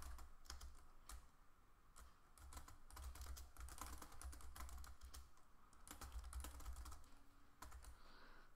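Quiet, irregular clicking of keys on a computer keyboard, bursts of typing with short pauses, close and faint, with no voices.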